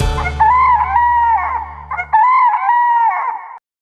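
A voice imitates a rooster's crow twice, loud and close, each call a long drawn-out cock-a-doodle-doo.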